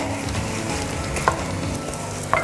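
Rice cooking with chicken stock in a pan, sizzling steadily while being stirred, with a couple of sharp scrapes of the utensil against the pan.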